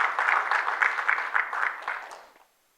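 A church congregation claps together in a steady rhythm of about four beats a second, a roomy and moderately loud sound that thins out and stops after a couple of seconds.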